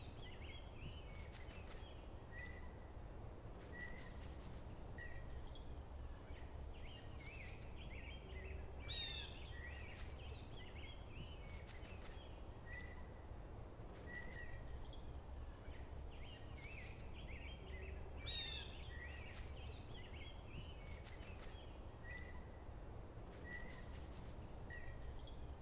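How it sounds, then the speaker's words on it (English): A gray catbird calls at Daniel Boone Park in Ipswich in May, giving repeated short scratchy calls and chirps at moderate distance over a steady low outdoor rumble. "The next bird I found was a gray catbird, as its scratching attracted me to its location."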